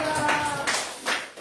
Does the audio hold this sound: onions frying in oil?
no